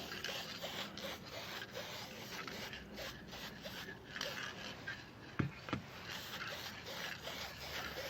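An aerosol spray-paint can hisses steadily, close up, as it coats parts of a 1958 Evinrude 10 HP outboard motor, including a pitted recoil casting, with a couple of sharp clicks partway through.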